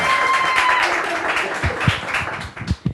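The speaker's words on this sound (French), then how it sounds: "Alors, on peut applaudir Christine." Applause for a presenter on a French local news programme, a dense patter of clapping that thins out and fades toward the end, with a few low thumps underneath.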